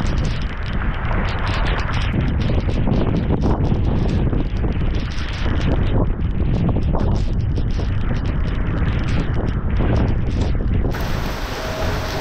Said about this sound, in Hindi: काफी ज्यादा तेज हवा है